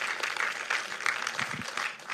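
Audience applause at a tech conference welcoming speaker Levin Bunz: steady, moderately loud clapping from a crowd throughout, with no pause or fade.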